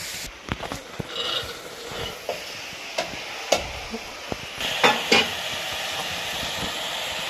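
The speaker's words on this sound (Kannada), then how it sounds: "ಇವಾಗ ಒಗ್ಗರಣೆಗೆ ಹಾಕಿದ್ದೀವಿ ನೋಡಿ." Boiled sweet corn kernels hit a hot tempering in a pan and sizzle loudly, with scraping stirs and sharp clatters at irregular intervals, close up and without speech.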